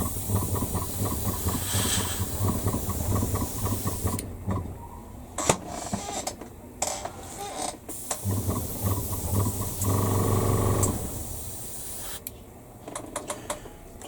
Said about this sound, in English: now for probably my least favourite colour to airbrush